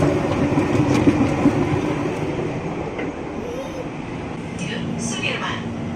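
A KRL commuter train carries riders from Depok to Jatinegara, heard from inside the car as a steady, loud rumble of wheels and motors. A brief wheel squeal rises late, and indistinct voices are faintly present.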